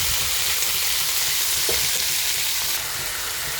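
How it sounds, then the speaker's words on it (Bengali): Peeled prawns fry lightly in a pan for thor chingri, a steady broadband sizzle holding throughout with a faint stir near the middle and no talk. "চিংড়িটা হালকা করে একটু ভেজে নিই"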